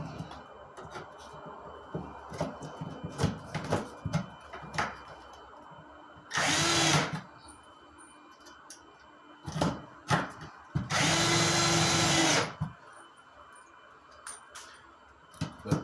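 A power drill drives screws into water-damaged drywall, two loud whirring bursts of about one and two seconds standing out against scattered tapping, handling and rustling noises nearby, with no talking.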